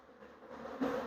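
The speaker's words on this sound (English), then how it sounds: "there are so many bees in this hive" Honeybees swarming over the frames of an open hive in a farm apiary, a steady close buzzing hum that swells louder toward the end, with no talking.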